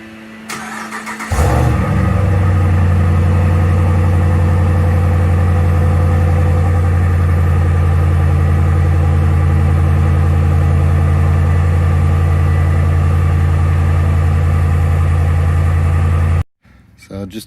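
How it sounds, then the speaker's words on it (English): A 5.7L Hemi truck engine with its stock muffler cranks and fires, then settles into a loud, steady, deep idle held close for about fifteen seconds before cutting off abruptly. "I'll give you guys an idea of what the stock muffler sounds like."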